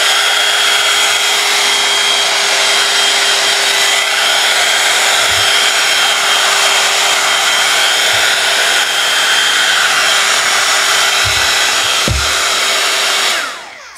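Hair dryer blowing over a handmade Christmas craft built from found items, a loud continuous whoosh with a steady hum that runs unbroken for many seconds before cutting off at the end, with no voices.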